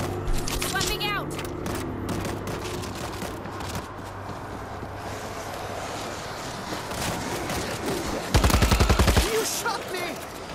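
Gunfire in World War Z Aftermath crackles through game noise and a voice, ending in a loud rapid automatic burst near the end.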